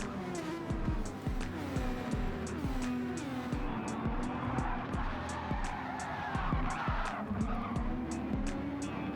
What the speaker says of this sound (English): Lev Kia lost traction on his cold tyres and the rear stepped out